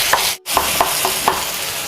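Tawa pulao cooking in oil on a low flame, a steady loud sizzle broken by a brief gap and a few regular stirring taps, close and without speech.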